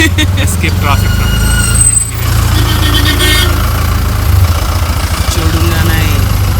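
Road traffic in Manali idles in a dense, continuous low engine drone, with a short dip around two seconds and a hiss suggesting truck air brakes, while people talk over it.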